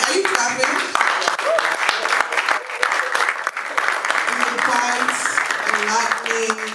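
Loud, dense audience applause at a summit session, sustained clapping throughout with cheering and voices rising over it.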